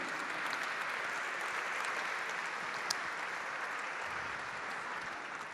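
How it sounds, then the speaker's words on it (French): A dense, even wash of audience applause fills a gastronomy and wine awards ceremony, many hands clapping at once for the full stretch without pause. "sous vos applaudissements, s'il vous plaît"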